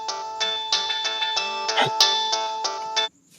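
A phone ringtone plays as a bright repeating electronic melody, a run of pulsed tones for about three seconds before cutting off abruptly, loud and close with no talk over it.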